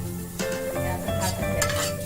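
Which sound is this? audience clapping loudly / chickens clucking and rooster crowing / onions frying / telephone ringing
onions frying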